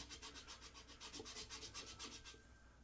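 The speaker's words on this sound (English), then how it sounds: "Sanding on those." Quick, rhythmic strokes of sandpaper rubbing on a wooden ukulele fretboard, a soft scratchy back-and-forth that runs evenly and fades at the end.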